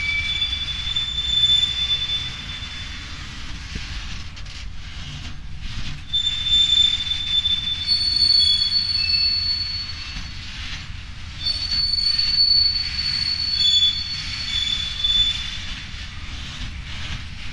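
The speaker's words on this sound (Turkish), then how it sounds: "tren geliyor arkadaşlar" A TCDD DE 33 022 diesel locomotive rolls into Niğde station, Turkey, braking, with sustained high-pitched wheel squeals rising and fading over a steady rumble of rail noise, loud and close.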